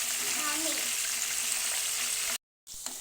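Raw banana chips frying in hot oil over a raised flame give a steady, close, dense crackling sizzle that cuts out briefly near the end and then resumes.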